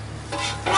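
Eggs cooking in a pan on a 4th of July camping trip, a steady close sizzle and frying hiss that swells louder toward the end, with faint stirring.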